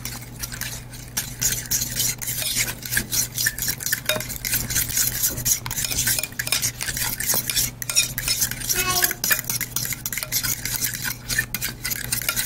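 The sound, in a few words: mixing cream cheese filling in a bowl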